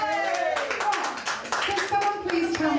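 Audience applause at a stand-up comedy gig, a burst of clapping from a crowd lasting a few seconds, fairly loud and close, with scattered voices and calls mixed in.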